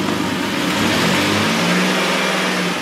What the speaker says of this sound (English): But we need to increase the RPM.